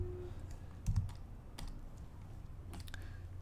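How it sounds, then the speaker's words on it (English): Keyboard shortcut keys being pressed on a computer during photo retouching, heard as sparse, quiet clicks and taps spread across a steady background hum. "I always have my left hand on the keyboard to use all the shortcuts that I'm used to."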